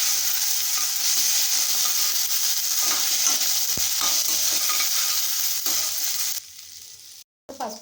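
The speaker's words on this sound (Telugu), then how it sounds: "ఇలా అల్లం వెల్లుల్లి పేస్ట్ పచ్చివాసన పోయే వరకు కలుపుకోవాలి" Ginger garlic paste fries in a pan for mango pulihora, a steady close sizzle with scraping stirs throughout, quieting briefly and cutting out near the end.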